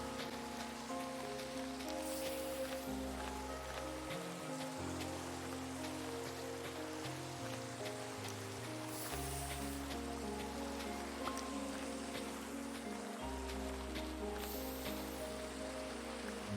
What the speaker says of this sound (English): Some nice rain.